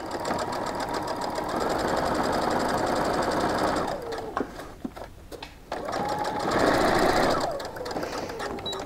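Sewing machine stitching quilt pockets for a weighted blanket, running in two steady bursts of rapid, even needle clatter with a short pause between, close and alone with no talk.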